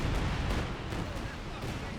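Grenade blasts in a first-person shooter game, a rumbling barrage of low booms and crackling bursts over two seconds, with a voice talking over the din.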